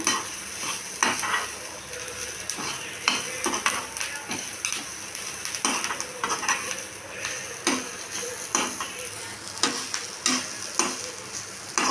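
Coconut and rock salt fry in a pan for bottle gourd chutney, a soft continuous sizzle broken by repeated scraping and clinking of a spoon being stirred against the pan.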